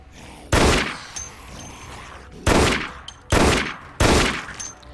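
Pistol shots in the video game Dead Effect: four loud, sharp reports, the first alone and the last three in quick succession, each trailing a brief echo over a low ambient hum.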